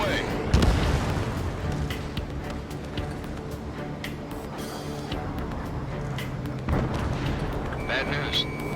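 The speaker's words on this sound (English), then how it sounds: "Right trigger, launching missile." Missile launches and heavy booming explosions in the combat flight game Ace Combat 7, a loud blast near the start followed by rumbling detonations and jet noise, with a voice talking over part of it.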